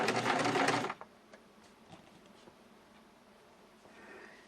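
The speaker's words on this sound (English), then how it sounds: "We're going to put it back onto a straight stitch, and then just a couple of stitches to secure." A Singer Simple sewing machine runs a short, fast straight-stitch burst to secure a button, loud and close for about a second, then stops, leaving quiet handling clicks.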